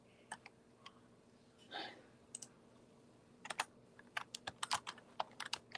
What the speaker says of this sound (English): I'm just typing the names of the people I see.